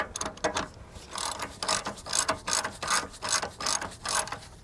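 A ratchet snugs the nut on the upper control arm of a 2007-2013 Chevy Tahoe, giving close, quiet, repeated clicking bursts in an uneven back-and-forth rhythm.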